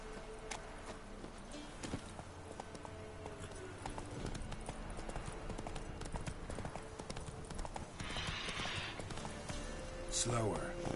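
A horse trots through The Witcher 3, its hooves clip-clopping in a steady, rapid rhythm for several seconds beneath a dense game soundscape, with a faint voice-like sound near the end.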